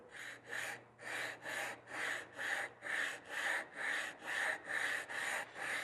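A sharpening stone rubbed back and forth on a ceramic flattening plate makes an even, rhythmic gritty rasp, about two strokes per second, close and steady with no talk.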